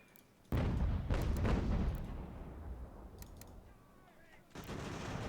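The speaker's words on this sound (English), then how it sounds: "I am getting bombarded by artillery." Artillery fire in the video game Ultimate General: American Revolution booms in sudden loud bursts with reverberating decay, one at the start and another near the end, over distant crackling gunfire.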